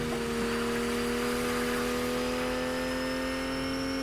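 Car engine in Fortnite driving over gravel, a steady mid-pitched whirring drone with sustained tonal hum, continuous and fairly loud with no talk.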